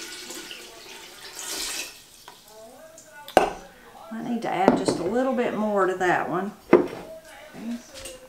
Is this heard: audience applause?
no